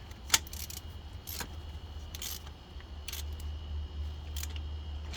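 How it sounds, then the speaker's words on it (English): A ratchet clicks in short bursts while snugging down valve cover bolts on an Infiniti Q50 3.7 engine, several quick ratcheting runs spaced apart and close by, with no talking. "So I could just use a ratchet and just tighten it snug."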